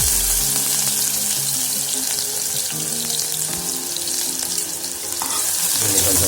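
Sliced onions fry in hot oil in a pan while a mutton, cucumber and tomato curry is cooked, a loud continuous sizzle with stirring scrapes and clatter near the end, no voices.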